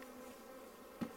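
Honeybees buzz around an open hive during an inspection, a soft steady drone close by with a faint thump near the end.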